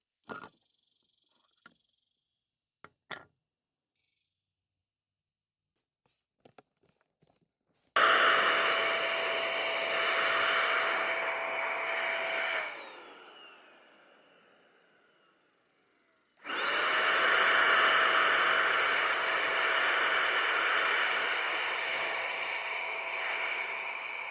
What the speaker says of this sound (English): this Milwaukee powered paint sprayer